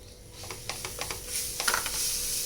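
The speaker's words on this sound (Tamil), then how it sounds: "இதையும் சேர்த்து கொஞ்சம் நல்லா நம்ம வதக்கிக்கலாம்" Chopped banana sautéed with coconut and cashews in a pan for susiyam, with a steady sizzle under a run of quick spatula scrapes and taps.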